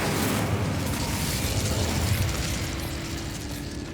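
An Incendio fire spell in Hogwarts Legacy erupts in a dense, roaring whoosh of flame, a loud, steady burning rush that fades slightly toward the end.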